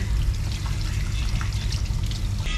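Water pouring and trickling over a customer's hair at a barber shop sink during a hair wash, a continuous close splashing flow with no talking.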